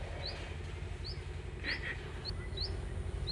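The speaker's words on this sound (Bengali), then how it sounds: "এদিকে পাখির ডাকও খুবই সুন্দর লাগছে গাইস" Birds call outdoors in a small home garden by a field, short high chirps scattered every half second or so, faint and distant over a steady low hum of background noise.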